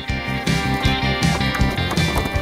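Swamp water buffalo jostle inside a wooden pen as they crowd to get out, producing a rapid series of heavy thumping, knocking hoof and timber impacts in a busy, irregular rhythm up close.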